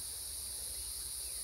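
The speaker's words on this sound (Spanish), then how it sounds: "Chicharra, ¿no?" Cicadas buzz in a steady, dense drone beside a cornfield, a continuous high shrill hiss with no pauses, fairly faint and heard alone without voices.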